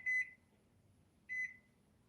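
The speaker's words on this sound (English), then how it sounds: "I'll go ahead and put a timer on." Two short, bright electronic beeps from a kitchen timer, about a second apart, clear and close in a quiet room with no talk.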